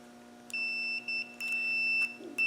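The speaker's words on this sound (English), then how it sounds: "you'll get a tone. That means there's continuity in that circuit." A continuity tester used for car interior-light wiring fault finding gives a clean high electronic tone in several short bursts and longer holds as its probes touch, close and alone against a faint hum.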